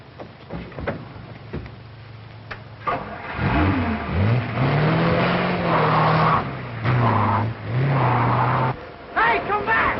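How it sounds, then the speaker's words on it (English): A car pulls off in pursuit, its engine revving and rising in pitch as it accelerates, with voices shouting over the motor in an old film soundtrack. "Get in your car and overtake him."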